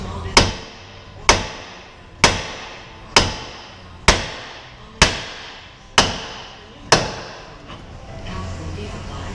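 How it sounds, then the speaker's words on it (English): Heavy hammer blows striking a steering spindle to shock loose a tie rod end's tapered stud, eight sharp metallic impacts at a steady rhythm of roughly one per second, loud and close, with no talking. "right here where the tapered stud goes into the spindle. We've got to hit it there and shock it."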